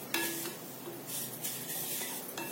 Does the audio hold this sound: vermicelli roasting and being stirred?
yes